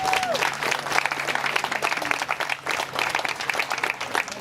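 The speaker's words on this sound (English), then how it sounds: "Let's give him a round of applause." Applause from a crowd at a mayoral candidate's campaign event, sustained and fairly loud, with dense clapping that stays even throughout.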